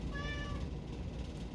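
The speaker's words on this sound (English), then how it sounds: "Crazy cat." A pet cat lets out a single drawn-out meow, close by and fairly loud, over a steady indoor background hum.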